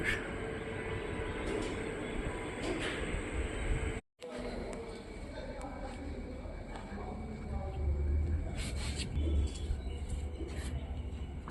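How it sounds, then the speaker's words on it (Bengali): A metro train at Joka metro station produces a continuous low rumble and mechanical hum, with brief squeaks and one short dropout, while voices murmur in the background. "এটা হচ্ছে কি আমাদের জোকা মেট্রো স্টেশন"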